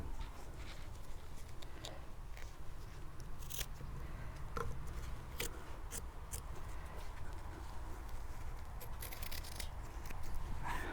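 Scissors trim excess upholstery fabric from a Danish dining chair, giving quiet, close, irregular snips over a faint background hiss.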